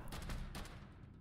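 Gunfire in the video game Fallout Shelter comes as a quick burst of several faint, sharp shots followed by a short fading tail.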